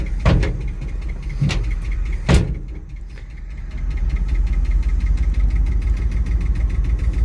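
A 1973 Dodge Ramp truck engine idles close by, its steady rumble punctuated by three sharp knocks or bangs early on before settling into a continuous running drone.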